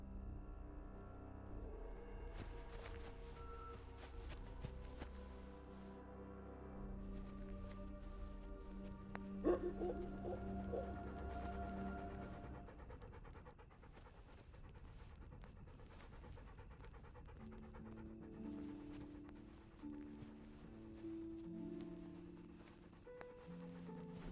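A dog pants in the medieval role-playing game Kingdom Come: Deliverance, a steady rhythmic breathing that runs under layered game music and ambience, fairly near and moderate in level.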